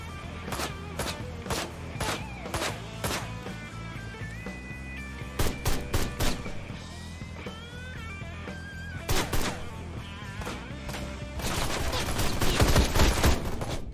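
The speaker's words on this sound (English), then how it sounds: "everybody's shooting at me at once" Gunfire from many enemies in the video game Ride to Hell: Retribution, rapid irregular bursts of shots cracking close and sharp, with brief lulls and a dense volley near the end.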